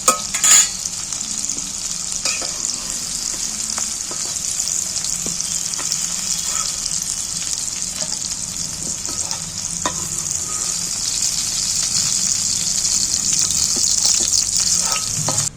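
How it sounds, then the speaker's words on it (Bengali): Yardlong beans frying in oil in a pan, a continuous close hiss of sizzling that builds slightly toward the end, with faint scattered stirring clicks and no voices. "বরবটিগুলো ভেজে নিয়েছি এবার আমি তেল ঝরিয়ে তুলে নেবো"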